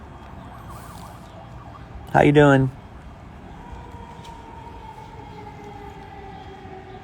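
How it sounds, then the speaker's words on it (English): A fire truck siren passing near a fire department: a faint, steady wailing tone that rises in the background after a brief spoken greeting, with faint outdoor ambience throughout. "I don't know if you guys can hear the fire truck."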